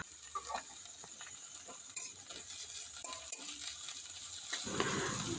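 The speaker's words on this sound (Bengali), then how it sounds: "এই যে দেখো পেঁয়াজ ভাজতে দিয়েছি" Onions fry in oil at low volume, a soft, uneven sizzle broken by scraping stirs and light clinks of a utensil against the pan, growing a bit louder at the end.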